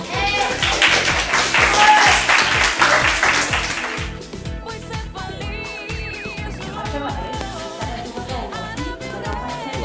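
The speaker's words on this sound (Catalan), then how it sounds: "Molt bé, aplaudiu-ho." A school audience claps at a primary school event. The first few seconds are loud and dense, then it thins into scattered claps under music and voices.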